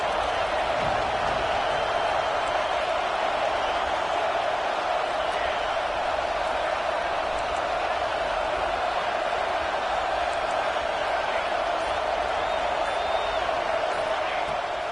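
A stadium crowd at a football game roars in a dense, sustained wash of cheering for the full stretch, loud and steady, with a commentator's voice underneath.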